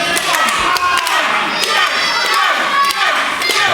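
A live wrestling crowd cheers and shouts during a WrestleForce championship match, a loud continuous roar of voices with a few sharp yells rising above it.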